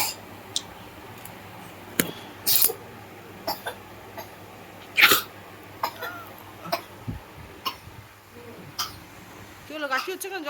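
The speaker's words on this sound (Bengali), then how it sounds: "কি হলো, কাশি হচ্ছে কেন?" Several short, sharp coughs break out at irregular intervals, close by, with quiet background sounds between them and some talk from people in the room.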